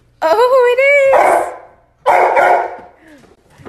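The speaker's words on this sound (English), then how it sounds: "this is my dog" A pet dog at home gives a drawn-out whining yelp and then a second loud bark, close by, with people's voices and excited talk around it.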